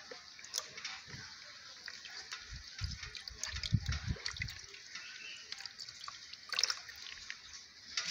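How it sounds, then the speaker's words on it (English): Water poured and dripped onto catfish eggs during incubation, a faint patter of splashes and trickles with soft scraping in a quiet room. "So after you turn it, then you apply the water."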